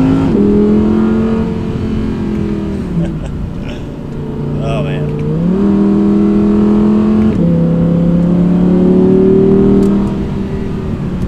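An Audi R8 supercar accelerates on the road, its engine droning loudly and climbing in pitch through several gear changes, with a brief dip and recovery midway; someone speaks briefly over it.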